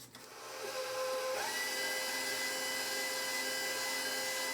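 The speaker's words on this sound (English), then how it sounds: "blend on medium-high speed" An electric hand mixer runs steadily at medium-high speed, blending pumpkin roll batter with granulated sugar in a bowl, a continuous close whirring hum that starts up and holds without pause.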